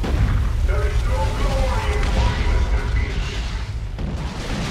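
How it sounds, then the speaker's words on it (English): Artillery shells bursting in Dawn of War 2 Retribution, a dense, continuous rumble of booms with a busy game soundtrack layered over it, loud throughout and easing slightly near the end. "Artillery incoming. Oh, friendly fire!"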